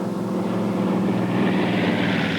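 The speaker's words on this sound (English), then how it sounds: "This is a TBM Avenger. It's built by Grumman." A Grumman TBM Avenger, a World War II torpedo bomber, drones with a loud, steady engine roar that holds unbroken throughout.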